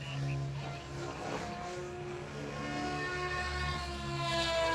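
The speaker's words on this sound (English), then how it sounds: "Bird flying his Ill Goblin Pro" A Goblin Pro RC helicopter flies at an outdoor club event, and its rotor and motor whine holds steady at middle distance across the whole stretch with faint background noise.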